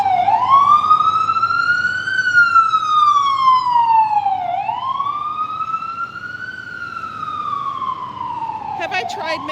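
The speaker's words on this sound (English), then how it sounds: "Another ambulance." An ambulance siren wails on Broadway in New York City, a loud, continuous rising and falling tone that sweeps slowly up and down, nearby over steady street noise.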